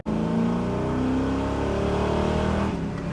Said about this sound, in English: that kind of whistling noise that you hear when you mat down on it